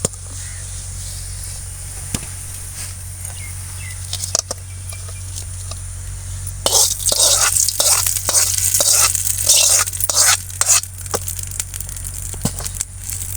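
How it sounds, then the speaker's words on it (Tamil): Mustard seeds and dried chillies crackle and sizzle in hot oil for a tempering, a steady low hiss that turns into dense, bright spattering and popping partway through, close by and with no talking. "இப்போ கடுகு போட்டுக்கலாம் வத்தல் போட்டுக்கலாம் இப்போ தாளித்து"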